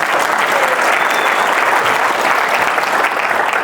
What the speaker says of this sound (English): And also a round of applause for Allison for this event and what she's putting on.